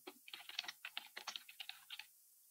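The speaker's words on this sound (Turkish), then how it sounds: "E-mail adresimi yazıyorum." Someone types an email address on a computer keyboard in a quiet room, with a quick, close run of about twenty crisp key clicks that then stops.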